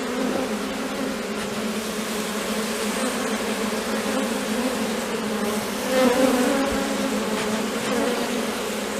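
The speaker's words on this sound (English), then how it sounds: "working bees in the rain." Honey bees buzz steadily around a hive in the rain, a dense continuous drone that holds at an even level and swells briefly a little past the middle.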